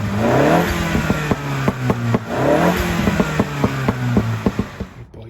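A Mini Cooper S F56 with its standard air filter, revved twice in long throaty surges, then a string of short blips with sharp pops and crackles, loud and close, no voices.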